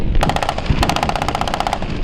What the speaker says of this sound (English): they engaged with small arms fire, which escalated into an intense barrage of bullets and rocket-propelled grenades